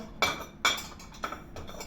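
Several sharp clinks and clatters of dishes and cutlery being loaded into a dishwasher, three or four close knocks spaced irregularly in a quiet room.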